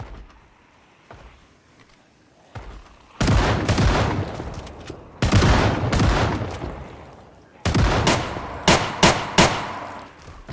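Shotgun fire in the Project Zomboid video game: several loud, sharp blasts in bursts, the last group a quick run of close shots, after a quieter stretch of low ambience.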